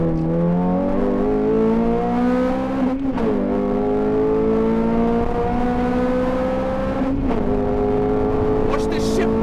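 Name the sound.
Honda Civic Type R FN2 engine and exhaust while driving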